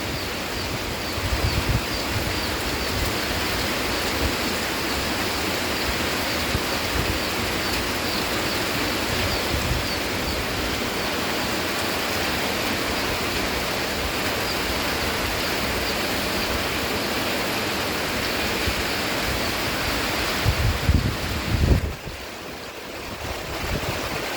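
Heavy rain and wind in Thailand make a steady, dense roar that stays full and unbroken throughout, with a brief louder gust swelling near the end.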